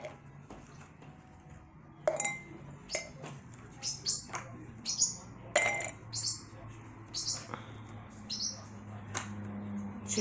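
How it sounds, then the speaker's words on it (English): Ice cubes clink and rattle into a drinking glass, a string of bright sharp glassy taps and clatters at irregular intervals, close and fairly loud, with a faint background hum. "Put some ice in this glass."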